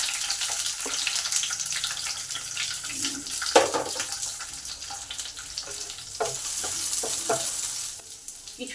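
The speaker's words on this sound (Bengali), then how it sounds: "ক্যাপসিগুলো আগে ভেজে নিই।" Capsicum frying in white oil in a pan, with a steady sizzle broken by scraping stirs and a few sharp spatters, moderately close and with no one talking.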